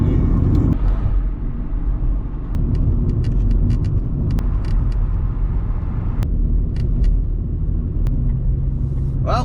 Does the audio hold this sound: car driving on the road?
yes